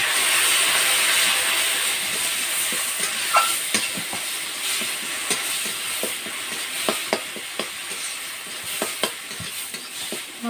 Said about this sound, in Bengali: মশলাটা বেশ আমার ভালো করে কষানো হয়ে গেছে